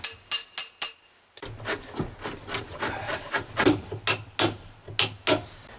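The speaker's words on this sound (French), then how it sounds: "c'est que tu peux varger dessus avec ton marteau." A hammer strikes a French-made carving knife into cedar, giving a few bright ringing taps followed by a series of duller, irregular knocks and scraping cuts into the wood, close up, with no talking.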